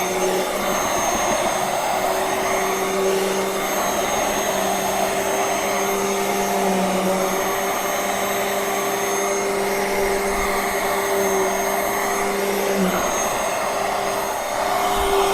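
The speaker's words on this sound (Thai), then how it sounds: "โซฟาหนังหรือโซฟาผ้าก็สามารถดูดได้นะครับ" A UWANT M100 dust mite vacuum cleaner runs over a sofa, giving a steady, loud motor whine with a constant airy hiss and a pitch that barely shifts for the full length.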